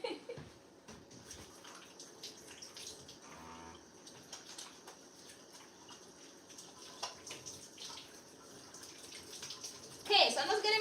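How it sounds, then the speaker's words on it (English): Tap water runs steadily into a kitchen sink while hands are washed before making dumpling dough, a constant close wash of noise with small splashes and a sharper burst near the end. "I'm just getting my hands washed and dry"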